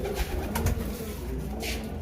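Kamgar pigeons cooing in a loft at a pigeon market in Lahore, low throaty coos repeating close by over a steady background murmur.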